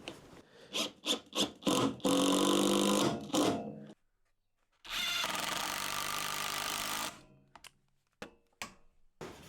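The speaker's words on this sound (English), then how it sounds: "Now I can get it locked into place with some screws." Power driver sinking screws into wood on an old Workmate folding bench, two sustained whirring bursts of a couple of seconds each with short taps and knocks around them, close and loud.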